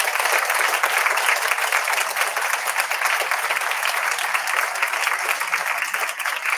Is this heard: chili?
no